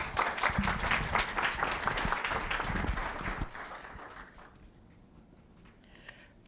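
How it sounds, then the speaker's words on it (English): An audience at a community coffee meeting with the mayor bursts into applause, a dense wash of clapping for about three seconds. The clapping then fades into quiet room noise. "Give her a round of applause"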